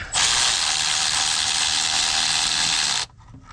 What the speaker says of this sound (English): It's just a ratchet.